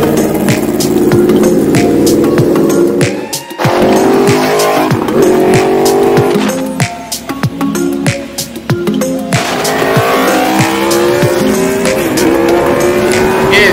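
A motorcycle on a short test ride revs loudly and repeatedly up close, its engine note rising and falling in bursts with a brief dip near the start.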